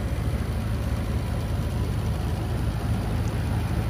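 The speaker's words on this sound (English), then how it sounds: "There's your W12 Bentley twin turbo engine producing roughly 560 horsepower." A 2007 Bentley Continental GTC twin-turbo W12 engine idles with a steady low rumble, close by and fairly even, with a faint high whine riding on top and no talking.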